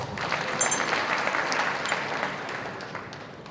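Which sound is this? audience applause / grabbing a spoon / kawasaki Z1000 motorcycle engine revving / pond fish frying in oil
audience applause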